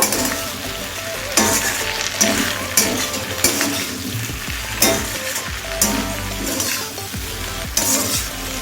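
Ginger-garlic paste fries in a hot pan for a Bengali pui shak and prawn curry, a steady close sizzle with repeated scraping stirs at roughly one-second intervals, no voices.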